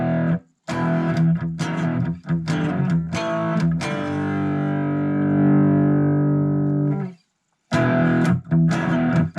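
Electric guitar played through a Spark amplifier on its crunch setting: a few strummed chords, then a long sustained ringing chord that decays, then more short strums, loud and close with no talk.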